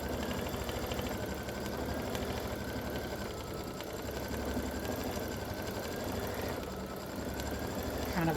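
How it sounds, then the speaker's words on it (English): A sewing machine stitching two pieces of test-stitched fabric together to make a table mat, a steady, close mechanical whir that runs evenly with no pauses. "I'm gonna sew these two pieces together"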